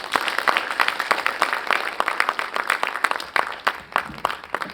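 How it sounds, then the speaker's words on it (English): Audience applause following a speech at a conference event: dense, steady clapping from many hands with sharp individual claps standing out, sustained for several seconds at moderate volume without talk. "Can we have another round of applause for Mr. Damo, please?"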